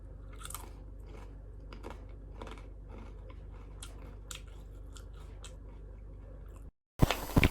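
Crispy baked vegetable chips, here a potato slice, being eaten close up. A rapid series of dry, brittle crunches fills about six seconds, then a short pause and a louder final burst.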